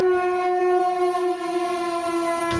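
A train on a trip to Tirupati sounds a long, steady horn blast, loud and close, holding one unbroken harmonic tone for the whole stretch with no talking.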